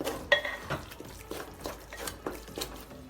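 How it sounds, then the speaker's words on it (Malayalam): A spatula stirs Kerala-style nadan beef curry masala sautéing in a pan, giving soft rhythmic scrapes and taps against the metal at a gentle, quiet level. "ടേസ്റ്റ് ബാലൻസ് ചെയ്യാൻ വേണ്ടി നന്നായി ഇളക്കിക്കൊണ്ടിരിക്കുക"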